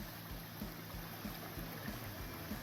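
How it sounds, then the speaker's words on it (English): Steady rushing and trickling of the Orbiton Stream, a mountain stream along a trail near Rangeley, Maine, heard close by as a continuous broadband wash with small rhythmic gurgles and no voices. "This is the Orbiton stream"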